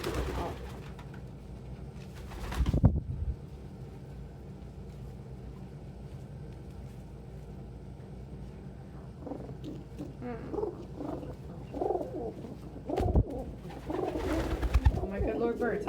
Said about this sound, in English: Oh my good Lord, birds.